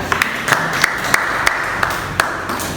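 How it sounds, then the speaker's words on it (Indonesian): Applause from a classroom of students, a short burst of scattered hand claps with a few sharp louder slaps standing out, fairly close and without talk. "Aplaus untuk semuanya."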